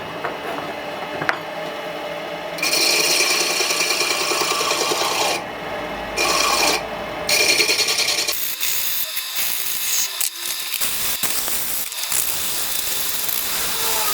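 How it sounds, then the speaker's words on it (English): Sandpaper pressed against the inside of a metal part spinning on a lathe gives a loud continuous abrasive hiss over the motor's hum, rising and falling in intensity as pressure changes, with a few brief knocks near the end. "I just strap it in there and press the sandpaper on the inside, and that gets a nice polish inside there"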